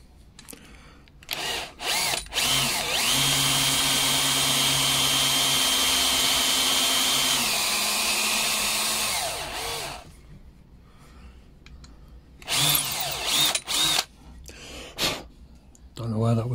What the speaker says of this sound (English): I'm going to do is drill a little relief hole up here